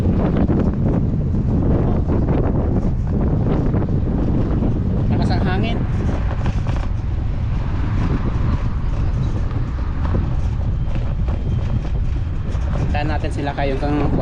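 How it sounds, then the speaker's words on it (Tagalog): Strong wind buffets the microphone on an outdoor bike ride, producing a loud, continuous low roar and rumble that dominates the whole stretch, with a voice speaking underneath. "Lakas ang hangin."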